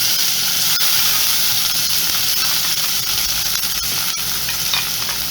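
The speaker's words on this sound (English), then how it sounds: "So let's saute these vegetables quickly. This is the garlic here, and add the vegetables." Garlic, red and yellow sweet peppers and jalapeño sautéing in a hot pan, a loud continuous sizzle and hiss with a few stirring knocks, close up and with no talking.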